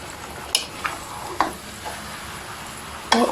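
Chicken fries in a pan with a steady sizzle while a spoon stirs it, giving a few sharp scraping clicks and knocks spread across the few seconds, close and clear with no talking.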